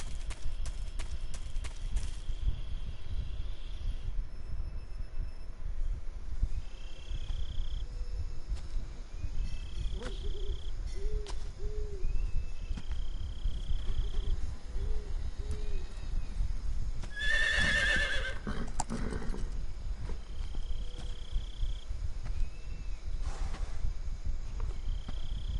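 Horse in the video game Metal Gear Solid 3 galloping with steady clip-clop hoofbeats throughout, a couple of brief whinnies and one louder neigh midway, over crickets, distant bird calls and an ambient jungle bed.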